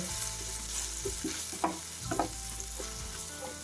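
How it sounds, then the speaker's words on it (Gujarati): Turmeric, salt and ground coriander-cumin sautéing in a pan for Kathiyawadi dhokli nu shaak give a low steady sizzle over a background hum, with scattered soft clinks of stirring. "મસાલા બધાને સાતડી લેવાના છે"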